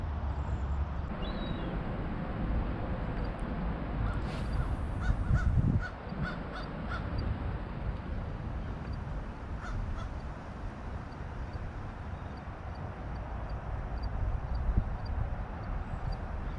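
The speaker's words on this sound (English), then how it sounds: "sounds like that gull heard me" A gull calls repeatedly over the Cape Cod Canal, several short harsh cries clustered together, fairly distant above a steady outdoor wash of wind and water.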